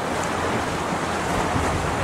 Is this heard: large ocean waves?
yes